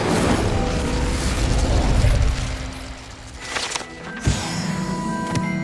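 The Incendio fire spell in Hogwarts Legacy erupts in a loud, rushing burst of flame and rumble that fades after about three seconds, then gives way to sharp clicks and a brief magical chime.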